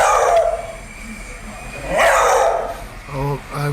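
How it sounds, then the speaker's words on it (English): A beagle barks twice in short, sharp bursts with a gap between them, fairly close, and a voice is heard briefly at the end. "so it's actually a beagle"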